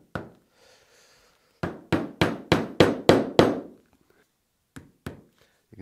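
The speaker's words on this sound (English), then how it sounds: "this is what I use for small pins, just a small nylon hammer" A small nylon hammer taps sharply on small pins in leather, a single strike then a quick run of seven even blows, pausing before a few more light taps; close and crisp.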